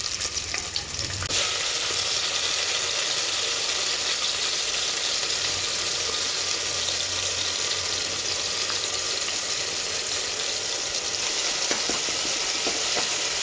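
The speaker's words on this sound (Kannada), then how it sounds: "ಎಣ್ಣೆ ಬಿಸಿ ಆದಮೇಲೆ ಇವಾಗ ಓನಿಯನ್ ಹಾಕಿ ಫ್ರೈ ಮಾಡ್ಕೊಳ್ಳೋಣ" Loud, continuous sizzle of onions frying in hot oil, a dense crackling hiss that holds steady throughout after a brief clatter at the start.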